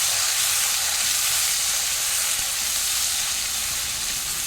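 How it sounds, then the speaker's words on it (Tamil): Sliced pulichikai for pickle fry in a pan with a constant, dense, loud hiss of hot oil, steady and close with no pauses. "இதை இதுக்கு கூட சேர்க்கணும். சேர்த்து இப்படி கிண்டி விடணும்."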